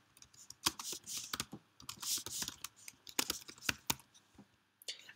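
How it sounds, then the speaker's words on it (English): Typing on a computer keyboard is heard as close, irregular bursts of crisp key clicks and clacks with brief pauses, and no voices. "As soon as you have finished the typing"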